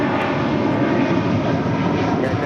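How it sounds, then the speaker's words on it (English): A Delta Airlines Boeing 757-300 departs LAX, its engines a loud, continuous broadband roar that holds steady throughout with no voices. "Our next departure is Delta Airlines Flight 720 heading to Atlanta, Georgia. It's a 757-300"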